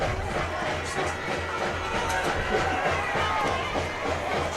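Football sideline crowd at a high school game chants the row-the-boat cheer in a steady repeating rhythm, heard through the general noise of the crowd with a voice talking over it.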